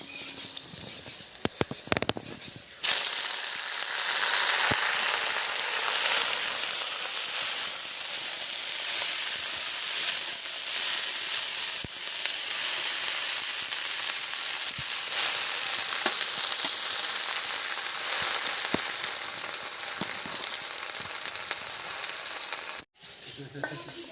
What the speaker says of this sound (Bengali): এবার শাকটা দিয়ে দেবো তেলে।